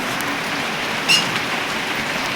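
Steady rain hisses evenly throughout, a dense wash of drops on a surface with one brief brighter patter near the middle.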